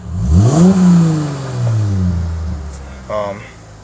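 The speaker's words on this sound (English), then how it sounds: "I'll let you hear the exhaust, my little baby V6." A tuned Dodge Challenger V6 revs through its exhaust, one rising and falling sweep of engine note that swells up loud and then settles back toward idle, up close, with a short clatter near the end.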